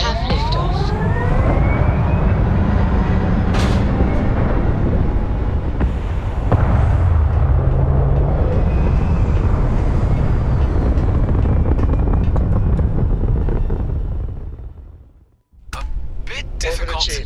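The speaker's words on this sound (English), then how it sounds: "We have liftoff." Spaceship liftoff in Starfield: a loud, sustained engine roar with wind-like rumble holds steady for about fourteen seconds, then drops to near silence before a brief rush returns.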